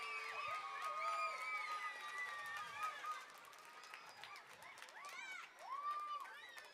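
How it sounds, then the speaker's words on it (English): A school auditorium audience cheers and claps for the art teacher, with loud whoops and shouts over a steady crowd roar that swells and dips throughout. "Let's give her a nice round of applause"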